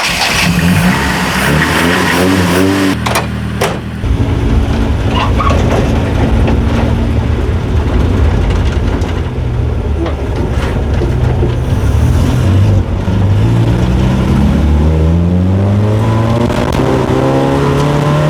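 A Toyota Corolla TE71 revs hard and drives, its engine note climbing and falling through gear changes, loud and close throughout with no talking.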